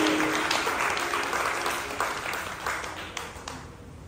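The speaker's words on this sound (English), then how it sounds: "Put your hand together for this," Applause from a church congregation fills the room, a dense steady patter of many hands that thins slightly toward the end, with no talk over it.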